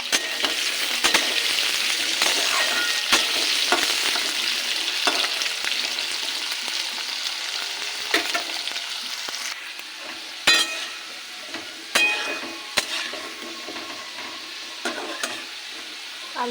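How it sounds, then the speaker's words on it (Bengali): Potatoes frying in a pan for a Bengali banana-flower dish sizzle steadily while a utensil stirs them, sending sharp scrapes and clinks against the metal; the sizzle softens toward the end, leaving sparser clatter. "আলুটা ভাজা হচ্ছে"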